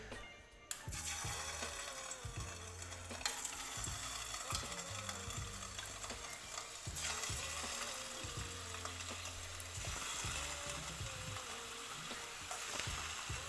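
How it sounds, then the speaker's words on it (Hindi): Chicken koftas frying in hot oil in a pan on a stove over a low flame, a steady loud sizzle with bubbling and crackling throughout, with faint clinks of utensils and no talk. "चूल्हे के ऊपर हमने बर्तन रखा है और ऑयल को गर्म कर लिया है। अब हम इसके अंदर कोफ्ते डालेंगे।"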